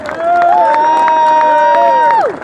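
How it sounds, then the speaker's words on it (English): A loud, close crowd cheers, with a long sustained whooping shout carrying over the noise before it trails off. "What's a big round of applause for Nissar?"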